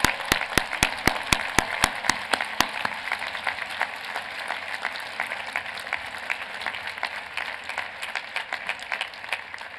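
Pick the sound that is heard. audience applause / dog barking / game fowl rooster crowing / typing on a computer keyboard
audience applause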